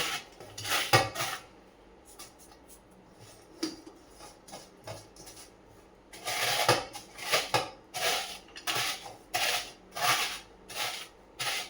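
Crushed ingredients for a gundar vasanu sweet being mixed in a metal vessel, with irregular clinks and scrapes of a utensil against the pot that grow busier and louder partway through.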